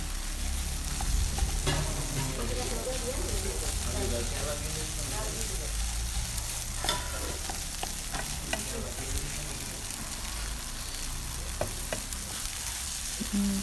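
An egg fries in a pan and is stirred, giving a constant close sizzle with scattered spatter pops and occasional scrapes of a utensil, continuing steadily without a break.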